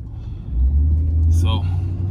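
A big truck's engine rumbles low and steady as it drives along a Southside Chicago street, swelling after a moment and holding under someone talking.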